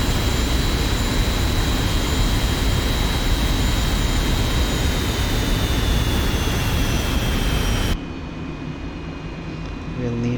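An F-86 Sabre jet's engine roars loud and steady with a high whine, then abruptly drops to a quieter, muffled rumble near the end.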